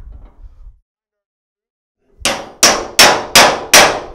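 A MAC RBRT socket extractor is hammered onto a stuck bolt: five loud, evenly spaced metallic clangs ring out after a brief murmur and a pause.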